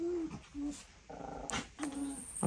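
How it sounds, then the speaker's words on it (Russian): A Belgian Malinois shepherd dog growls and whimpers close by in short, uneven bursts with brief yips, its rumbling grumbles broken by pauses and set against a quiet indoor room. "Овчарка моя. Малинуа."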